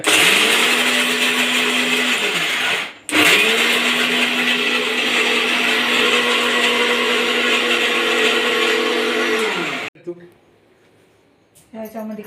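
An electric mixer grinder whirs loudly while grinding ingredients for dink laddu, running steadily, stopping briefly, then spinning back up for a long stretch before cutting off; faint clatter follows in the quiet.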